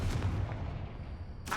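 A Confringo fire spell blasts from a wand in Hogwarts Legacy, a heavy booming explosion that rumbles on and fades, with a sharp crackle near the end.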